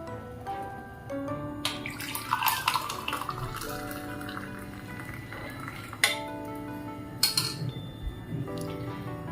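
Herbal kashayam, a decoction for cold and cough, is poured through a filter in a kitchen, with liquid trickling and splashing between clinks of vessels and a strainer, fairly close and moderately quiet.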